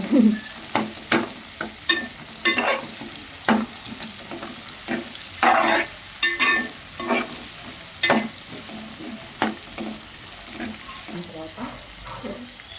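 Prawns sizzle in a pan for a bitter gourd curry while a spoon stirs them, giving repeated sharp scraping strokes over a steady, close frying hiss.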